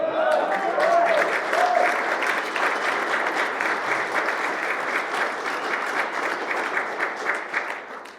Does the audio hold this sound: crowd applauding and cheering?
yes